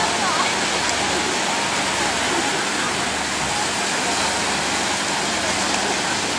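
A steady, loud roar of rough sea water surges continuously at Nang Ram Beach, Sattahip, Chonburi, Thailand, like heavy waves churning in stormy, rainy weather.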